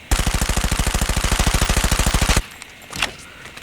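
Rapid automatic gunfire in COD Mobile, a steady burst of about two and a half seconds with evenly spaced loud shots, then a brief quieter tail with a faint mechanical sound.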